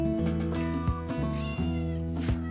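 A cat meows several times in a row, each call rising and falling, over a steady tonal background. The meows are close and clear, with no voices.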